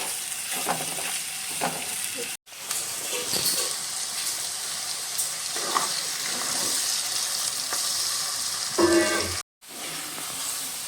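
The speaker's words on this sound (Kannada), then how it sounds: "ನೋಡಿ ಈರುಳ್ಳಿ ಫ್ರೈ ಆಗ್ತಾ ಇದೆ" Onions with cumin frying in hot oil in a pan, a continuous close sizzle with a few stirring scrapes and brief gaps, no talking.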